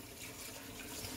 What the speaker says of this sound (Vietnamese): Mình xả nước này.